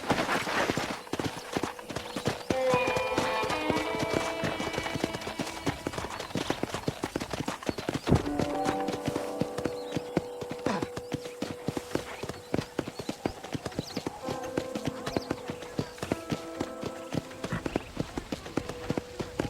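Horse hooves clip-clop steadily as a rider travels at a walking pace through a ranch in the Red Dead video game, with an occasional snort or whinny and faint game music underneath.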